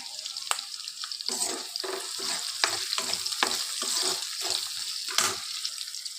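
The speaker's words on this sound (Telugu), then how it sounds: "ఆయిల్ హీట్ అయింది ఇప్పుడు ఆనియన్స్ వేస్తున్నాను పచ్చిమిర్చి వేస్తున్నాము" Chopped onions and small round green chillies frying in hot oil for a country chicken curry, a steady close sizzle broken by repeated scrapes and clatters of stirring, with no voices.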